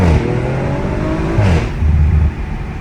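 A 500+ hp Audi RS5 with a twin-turbo 2.9-liter V6, quattro all-wheel drive and a ZF 8-speed accelerates hard through a forest, its loud, close engine rising in pitch and briefly dipping during a shift.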